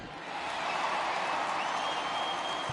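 Home crowd at a baseball game in MLB The Show 20, a steady broad roar of cheering and applause filling the whole clip at even loudness.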